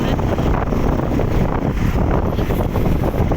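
Strong wind buffets the microphone, a loud continuous low rumble and roar throughout.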